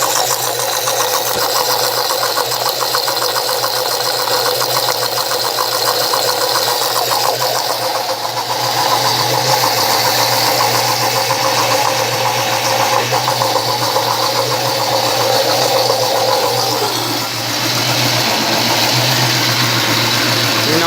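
An Oster blender runs steadily at medium speed blending SunButter, a loud, continuous motor whine with grinding texture that holds nearly unchanged throughout, close to the microphone with no talking.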